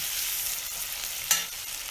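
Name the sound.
onions frying with salt for goat meat recipe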